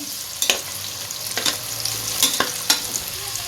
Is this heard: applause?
no